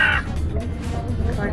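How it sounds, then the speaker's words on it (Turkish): A crow gives a single short caw near an Istanbul cafe, briefly heard over background chatter and ambient noise. "Bir kargamız eksikti,"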